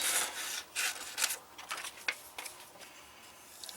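Scissors trimming around a gingerbread man image cut from scrapbook paper, a series of soft, close snips and rustling paper strokes with small gaps between cuts, no voices.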